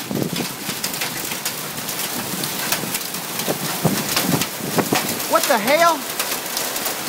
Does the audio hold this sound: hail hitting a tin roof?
yes